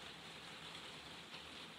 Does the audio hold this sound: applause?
no